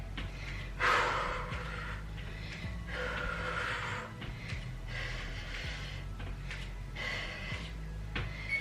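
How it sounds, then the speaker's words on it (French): A person breathes audibly during a home workout, with soft, repeated inhales and exhales and occasional sharper gasping breaths, close and quiet with no talking. "Et on respire."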